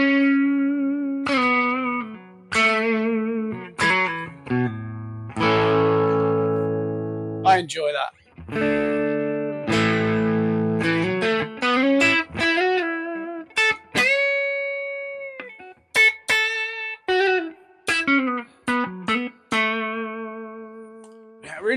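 Electric guitar through a King of Tone overdrive pedal into a Fender Deluxe Reverb amp, a gritty overdriven tone playing chords and single notes, pausing between phrases; someone speaks briefly near the end.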